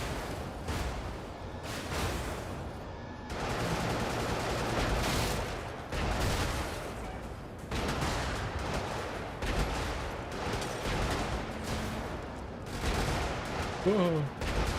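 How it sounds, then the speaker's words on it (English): Heavy gunfire in the mech combat game Brigador, dense continuous bursts of rapid shots and blasts with brief gaps, loud and close throughout, with a voice talking faintly underneath. "There's a lot of bullets."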